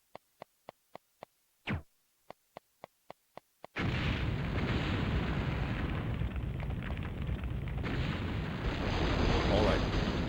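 In a PlayStation game, a series of sharp, evenly spaced bomb blasts, then a heavy, sustained roar of explosions and rumbling that fills the rest of the clip loudly.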